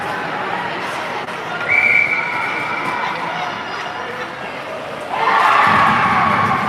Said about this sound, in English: There's another rink right beside us. That's why you hear cheering.